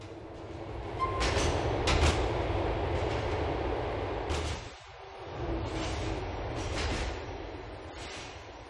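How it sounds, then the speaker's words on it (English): A train rolling through Liberty City in GTA IV, with continuous rumbling wheel noise and repeated sharp clacks of rail joints, loud and close, easing briefly around the midpoint before resuming. "The train is approaching Easton Station."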